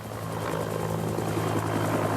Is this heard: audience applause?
no